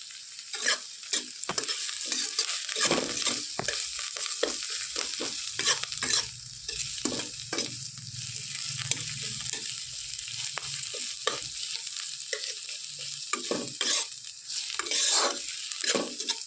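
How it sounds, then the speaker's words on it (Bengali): Chopped onion, garlic and green chilli frying in a pan, with a steady loud sizzle and repeated clattering scrapes of a spatula stirring through the mix. "পেঁয়াজটা ভালো করে ভেজে নেবো"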